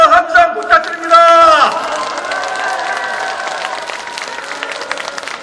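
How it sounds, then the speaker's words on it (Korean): A crowd at a political party delegates' convention in Busan claps and cheers for candidates. The applause and shouts swell after a short burst of amplified voice at the start, then carry on loud and sustained, tapering slightly. "박재호 후보에도 큰 박수와 함성 부탁드립니다."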